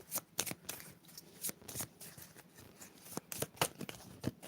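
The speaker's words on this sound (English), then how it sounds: "I'm going to assume you can see me shuffling." A deck of playing cards is shuffled by hand nearby in a fortune-telling card reading, quick riffling bursts and flicks in an uneven rhythm, fairly quiet and alone without talk.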